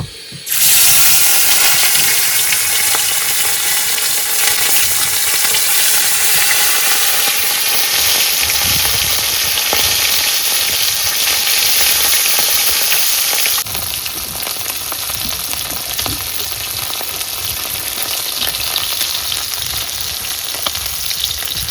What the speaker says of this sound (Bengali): প্রথম খোলের মাছ ভাজা কিন্তু হয়ে গেছে